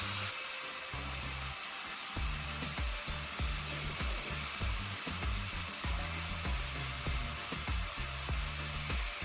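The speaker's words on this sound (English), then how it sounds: "I turn on a grinding machine, then place the tip of the screw against the grinding disc to reshape it" A grinding machine's abrasive disc reshapes the tip of a metal screw so it fits a tire valve stem. The steady, loud, hissing grind runs throughout, with a regular low pulsing underneath as the screw is pressed against the disc.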